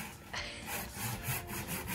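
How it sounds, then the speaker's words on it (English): A hand saw scores a block of ice for cocktails, giving steady rasping back-and-forth strokes close up in a quick rhythm, with no talking. "I like to use a saw."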